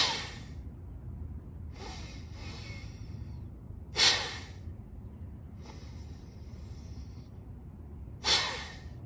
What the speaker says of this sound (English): we're just breathing out through the nose